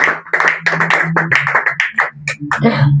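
A church congregation claps in praise of God, with rapid, uneven bursts of applause mixed with voices and a sustained musical tone.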